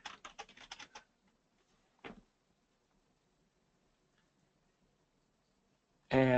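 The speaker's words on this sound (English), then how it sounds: "I'm going to type in movie trailers" Quick burst of typing on a computer keyboard, about a second of rapid close clicks, then one more short tap and quiet before a voice starts at the end.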